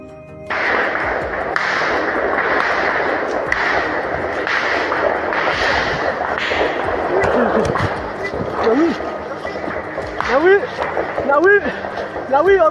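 Sharp gunshot cracks ring out repeatedly over a steady rushing background, some sounding distant and others closer, with bursts of firing near the end.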